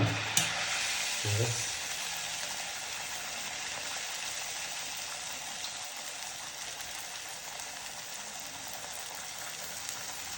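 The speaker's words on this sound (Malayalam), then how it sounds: "നമുക്കിത് വറക്കണം" Steady, even sizzling of neypathal dough frying in hot oil, with a couple of soft knocks near the start and no talking.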